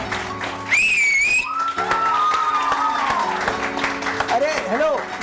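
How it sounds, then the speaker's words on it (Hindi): A loud, rising whistle from an audience member at a Pakistani morning TV show, sliding upward then falling, with crowd applause and people talking around it. "उन्होंने सीटी बजाई है।"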